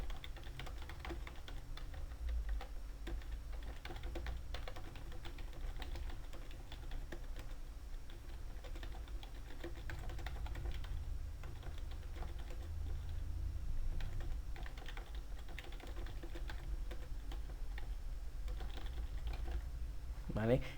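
Fingers tap out text on a computer keyboard in quick, irregular clicks while working in Adobe Illustrator, faint and close under a low steady hum, with occasional soft mouse clicks.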